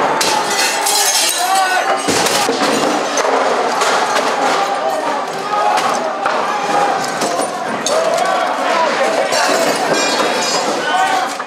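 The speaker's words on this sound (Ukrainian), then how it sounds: "чути звуки вибухів розбитого скла" Activists storming a regional administration office smash its windows and doors, sending out clinks and crashing glass within a loud, continuous roar of crowd noise and voices.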